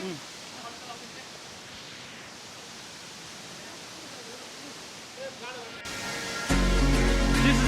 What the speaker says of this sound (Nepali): झर्ना चाहिँ यही हो